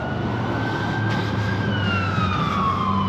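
Ambulance siren on a street, a wailing tone sliding in pitch as the vehicle passes, heard at moderate distance over steady traffic rumble, with no voices.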